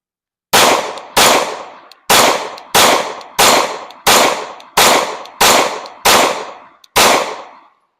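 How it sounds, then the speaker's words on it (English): Ten sharp Glock 26 pistol shots fired at about 12 yards, loud and close, spaced in an irregular rhythm with a brief ringing decay after each report and no talking. "I'm gonna shoot the Glock 26"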